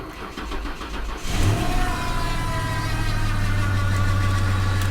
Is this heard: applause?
no